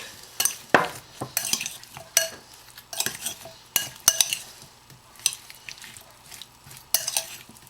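Tomatoes being stirred with coarsely ground hot red chili and spices, a series of soft scrapes and clinks of a spoon against the dish arriving in uneven bursts, with a faint sizzle beneath, fairly close and quiet.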